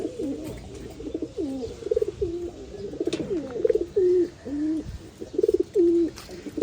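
A pet pigeon coos close by in a rhythmic series of throaty, rolling calls, repeated several times with short gaps between them.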